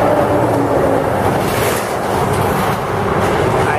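A New World N10 bus rushes past on the Via Anhanguera highway, a loud, broad roar of engine and tire noise that swells and fades, with steady road noise all through.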